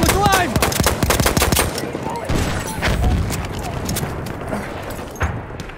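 Rapid 1897 trench gun shotgun blasts in a chaotic multiplayer shooter game on a ballroom map, with overlapping gunfire and other weapons cracking close and loud throughout, under in-game voice callouts.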